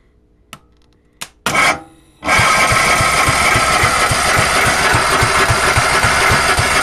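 An engine cold-starts, with a slightly leaking fuel line. A few sharp cranking clicks and a sputtering catch come first, then it fires and runs on with a loud, steady, close mechanical roar.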